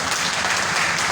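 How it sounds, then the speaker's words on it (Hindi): Crowd applause from a live audience at a Hindi-language motivational talk about earning money, a dense steady wash of clapping filling the whole moment without pause. "ए महाराज ताली बजाइए ना आप लोग"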